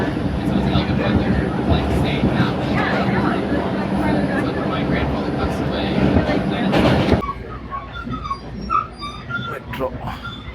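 A New York subway train rumbles loudly and steadily with roaring wheel noise, then cuts off into quieter ambience with faint voices and small sounds.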